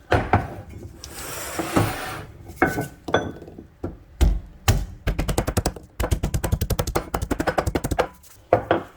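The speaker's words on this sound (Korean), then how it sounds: "이 마늘 두 쪽만 콩콩 다져 넣어주세요." Knife mincing garlic cloves on a cutting board, starting with a few separate chops and building into fast, rhythmic close knocking runs near the end.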